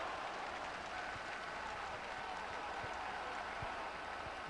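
A stadium crowd in the LMA Manager 2005 football video game, at an Exeter City match, produces a faint, even wash of applause-like murmur that holds steady from start to finish with no one speaking over it.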